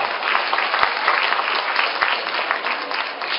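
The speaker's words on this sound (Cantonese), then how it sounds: "我哋喺度再俾多一次掌聲，多謝黃煙妮教授。" An audience at a luncheon lecture applauds the guest speaker, a professor, with dense, steady clapping that holds at an even loudness throughout.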